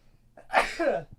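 One sharp, close sneeze from a person suffering allergy season or a cold, bursting out after a short in-breath and trailing off quickly.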